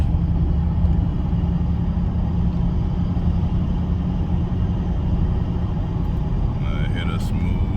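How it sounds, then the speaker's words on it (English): A 2011 Lincoln MKZ gives a steady engine and road drone from inside the car while driving, with no clear breaks between gears and a voice talking over it. "This Lincoln shifting through them gears like nothing."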